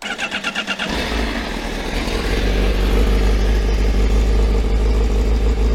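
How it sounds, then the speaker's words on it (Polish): A brief whirring starter pulse is followed by a motorcycle engine catching and settling into a deep, loud, throbbing idle close by. "Naciskamy guziczek, motocykl nam się odpala"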